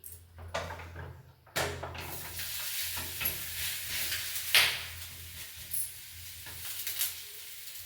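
Rice flour masala roti cooking in a pan over a low flame, with a soft continuous sizzle, a few scraping and handling knocks, and an occasional sharper clatter.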